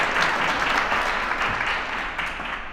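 An audience at a panel discussion with glass artists claps together, a dense, even wash of applause held at full strength for a couple of seconds and easing slightly toward the end.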